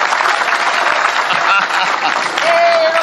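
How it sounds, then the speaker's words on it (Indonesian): A live audience claps for speaker Rocky Gerung at a talk event, a dense wash of applause filling the room, loud and sustained with faint crowd murmur underneath. "Tepuk tangan untuk Bung Rocky"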